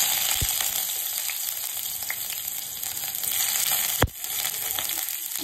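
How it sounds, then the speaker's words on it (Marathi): Onion and garlic sizzle in hot oil, a steady, loud, close frying hiss with one sharp knock partway through and no voices. "मी तेल ऍड केलेलं आहे, त्याच्यामध्ये कांदा घालायचा आहे आणि लसूण।"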